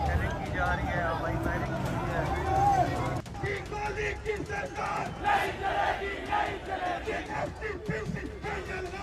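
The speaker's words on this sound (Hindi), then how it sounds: "भीड़ सड़कों पर निकल आई है।" Street protesters in Pakistan-occupied Kashmir form a dense, shouting crowd with rising chants and cries, a continuous loud babble of many voices in the open air, with individual yells poking through the din.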